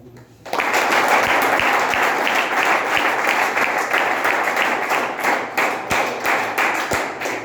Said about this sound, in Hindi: सभी लोगों के लिए अपने लिए खुद के लिए ताली